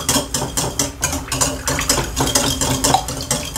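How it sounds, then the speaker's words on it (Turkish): Shampoo soap mixture stirred by hand in a container, quick rhythmic scraping and clinking strokes repeating about every third of a second, close and steady. "Miktar çok az olduğundan elden karıştırıyorum."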